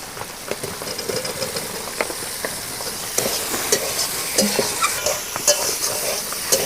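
Boiled potatoes fry in oily spice paste for a spicy sea fish curry, sizzling steadily while a spoon scrapes and stirs through the pan in irregular knocks and rasps, close and clear with no talk.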